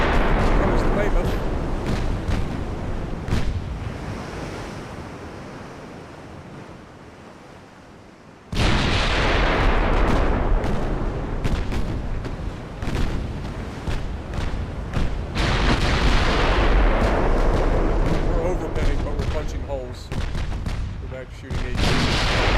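Warship main guns firing in a naval battle in the video game Ultimate Admiral, heard as a dense stretch of loud, repeated booming blasts with a brief lull partway through, then renewed heavy volleys.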